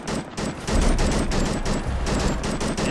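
An automatic crude blowback gun fires full auto in Fallout 4, a loud rapid burst of shots in steady rhythm, close and continuous for several seconds with no talking.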